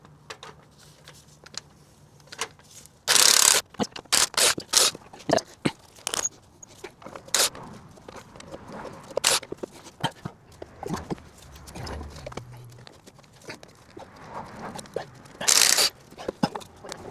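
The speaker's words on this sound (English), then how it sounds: "let's remove some header nuts" Wrench and metal work removing exhaust header nuts on a 1997–2004 Nissan Frontier V6, heard as scattered sharp clicks, clanks and ratcheting bursts, with two louder broadband hits, close and intermittent, with no talking.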